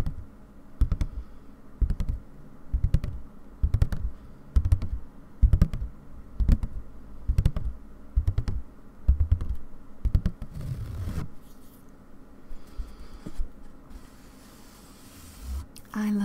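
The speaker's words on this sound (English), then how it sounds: "I hope you don't mind me tapping close to the microphone" Close-miked fingertip tapping on an embroidery hoop, sharp rhythmic taps in quick bursts for about eleven seconds before tapering into sparse, softer touches and faint rustling.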